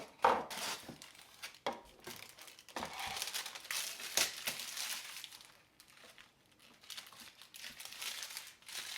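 Cardboard and plastic packaging of an LED desk lamp being opened, with crinkling, rustling and crisp handling snaps coming in irregular bursts, close and fairly quiet.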